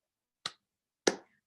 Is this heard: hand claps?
yes